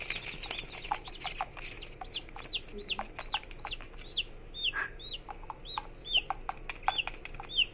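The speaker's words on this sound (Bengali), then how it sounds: "এখানে দেখতে পাচ্ছেন আমাদের বাচ্চা মুরগিগুলো" Many baby chicks peep in rapid, high-pitched chirps, a busy overlapping chorus at close range with an occasional low cluck.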